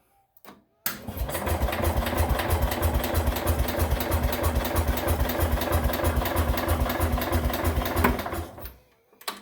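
An IH Cub Cadet 147 garden tractor, fitted with a starter generator, is cranked and starts, then runs with a loud, steady, rapid engine chug close by for several seconds before it shuts off.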